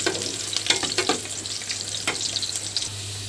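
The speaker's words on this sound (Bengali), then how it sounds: "এটা একটু ভেজে নেব সুন্দর করে" Onion and five-spice (panch phoron) tempering for dal sizzling in hot oil, a steady close hiss broken by scraping stirs and small pops, with no talking.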